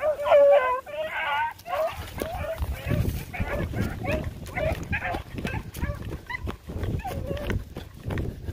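Rabbit hunting dogs barking and baying on a cottontail trail outdoors, several quick yelps near the start followed by scattered barks under ongoing talk from men in the field.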